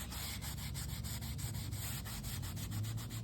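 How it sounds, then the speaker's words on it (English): A brush scrubs medium yellow paint onto a surface in quick, rhythmic back-and-forth strokes, a soft, close scratchy rubbing with no talk. "I'm just kind of scrubbing it on, sort of giving it almost like a watercolory appearance"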